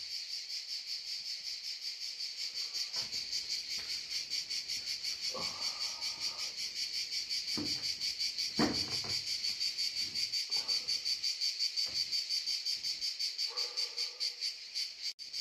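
A dense, continuous buzzing chorus of cicadas fills the air. Faint, scattered background noises come and go beneath it.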